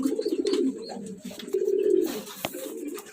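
Racing pigeons, including a small checkered hen, give soft, throaty coos in repeated rolling phrases close by, with a faint chirp and a brief click in between.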